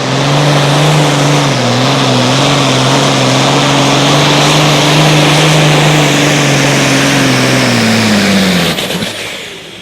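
A turbocharged super farm tractor roars down the track at a Wisner, Nebraska outlaw tractor pull, its engine screaming loud and sustained with a wavering droning pitch before cutting off abruptly near the end.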